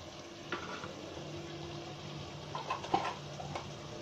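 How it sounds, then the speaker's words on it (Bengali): Spices are sautéed in a pan with oil, giving a faint, steady sizzle broken by a few soft scraping stirs and light clinks of the spoon against the pan. "মশলাগুলো ভালো করে কষিয়ে নিন।"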